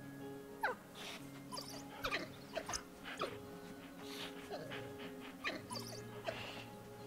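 African wild dogs in the Planet Zoo video game give faint, scattered yips, whimpers and short huffing calls over a quiet ambient bed with a low sustained tone.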